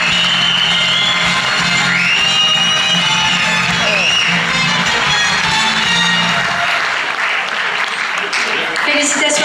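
Audience at the Miss Côte d'Or 2018 pageant applauding the second runner-up, loud sustained clapping with cheers and whoops, while music plays and a presenter talks early on.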